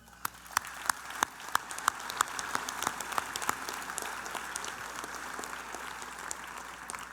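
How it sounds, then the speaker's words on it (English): Graduation ceremony audience applauding in a large hall, a few loud individual claps at first, then building into a steady, moderately distant wash of clapping. "a round of applause for those who put this event together"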